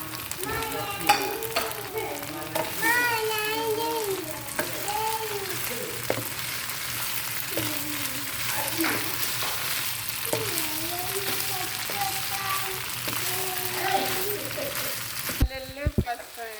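Potatoes frying in oil in a pan, a continuous sizzle broken by scraping stirs, while someone talks over it throughout; a few clattering knocks near the end.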